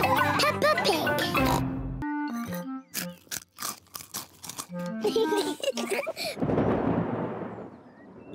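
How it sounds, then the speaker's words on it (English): A cartoon thunderclap in a Peppa Pig episode breaks out as a loud, broad rumbling burst near the end, after a stretch of lively character voices, squeals and music. "It's thunder, Peppa."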